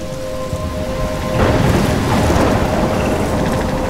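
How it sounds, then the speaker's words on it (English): Thunderstorm with rain in the video game Life Is Strange: a constant dense wash of rainfall, with a low rumble of thunder swelling midway and continuing under the downpour. "I'm trapped in a storm?"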